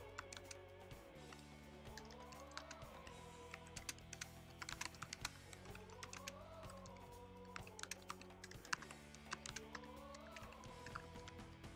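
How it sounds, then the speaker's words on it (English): Steady typing on a computer keyboard runs through the whole stretch, a continuous patter of quick key clicks at an even, close level, with looping background music underneath and no voices. "I'm gonna type something real quick."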